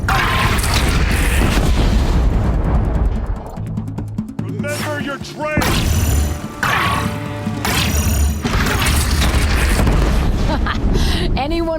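Heavy booming cannon blasts from the video game Horizon Zero Dawn, loud and repeated over a dense, chaotic battle mix with shouting voices and other game sounds throughout.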